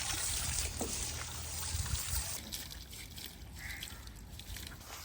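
Irrigation water trickles and pours along a channel toward neem trees in an outdoor yard. A faint, steady flowing wash runs throughout, and no one speaks.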